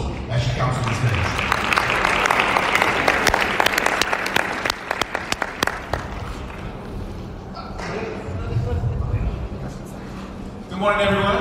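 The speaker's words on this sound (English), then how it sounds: "give her a warm round of applause as she comes to the stage" Warm applause from a convention audience fills the first half as a speaker comes to the stage, tapering into scattered claps, with someone speaking between and after the fading clapping.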